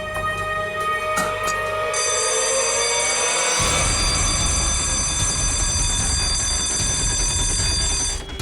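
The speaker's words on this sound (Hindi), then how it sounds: "अलार्म की आवाज आई" An alarm rings out loud and steady for the full stretch, its bell-like ringing continuous over a low rumble that drops away partway through, with no voices.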